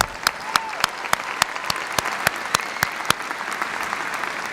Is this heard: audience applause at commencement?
yes